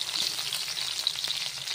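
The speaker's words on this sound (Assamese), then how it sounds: "ইয়াতে মই আলুকেইটুকু ৰঙচুৱা কৰি ভাজি ল'ম" Boiled potato pieces fry in mustard oil in a wok, giving a bright steady sizzle with small crackles and a soft stirring scrape, close and alone with no voices.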